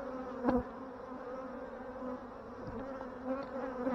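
Bees buzz steadily at a failing hive that has lost most of its colony, a continuous low insect drone with a few brief louder passes close by.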